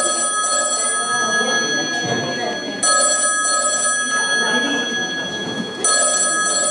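A telephone bell rings in two long, loud bursts separated by a short gap, with voices talking over and between the rings.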